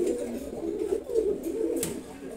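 A large racing pigeon of foreign bloodline coos in a steady low rolling murmur, close and continuous, with a faint high chirp briefly standing out near the end.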